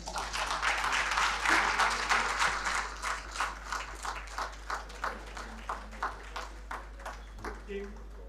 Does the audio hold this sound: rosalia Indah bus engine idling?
no